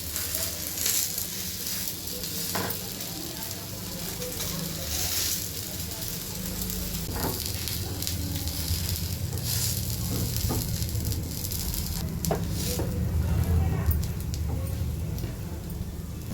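Semolina batter toast fries in oil in a pan over a medium flame, giving a steady, close sizzle and crackle that runs without a break, with a few faint clicks and pops on top.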